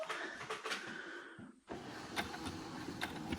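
A sewing machine stitches fabric in a steady mechanical whir with rapid needle clicks, stopping briefly midway before running on, close and fairly loud with no talk.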